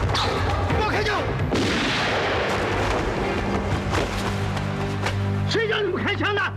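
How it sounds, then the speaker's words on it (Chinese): Gunfire in a period drama, a burst of loud booming shots and crackling reports up close, followed by raised voices speaking over the fading echoes. "谁叫你们开枪的？"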